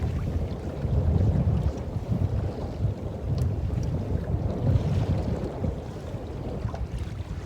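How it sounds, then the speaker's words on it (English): Strong wind buffeting the microphone on a lake while fishing from a boat, a loud continuous low roar with gusting surges and water lapping underneath, no talking. "Y'all can hear that wind charging"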